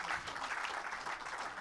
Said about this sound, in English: let's give a huge round of applause to these wonderful dignitaries over here